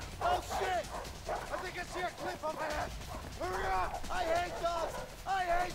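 Dogs bark and yip in short repeated bursts during a prison-escape chase in the video game A Way Out, close and fairly loud, with people talking over them throughout.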